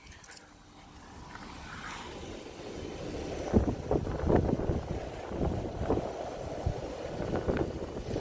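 Strong wind blows outdoors during an RC car speed run, a steady rushing roar with buffeting gusts that grow louder partway through. No one speaks.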